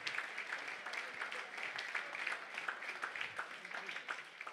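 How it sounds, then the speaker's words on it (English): Steady applause from a crowd, a dense wash of many hands clapping at once, moderately loud and sustained throughout with no pauses. "Can we get a huge round of applause for Davia and Adam?"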